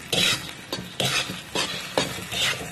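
Fried potatoes and eggs stirred in a frying pan, with a utensil scraping and knocking in a steady repeating rhythm over a soft sizzle, close and clear with no voices.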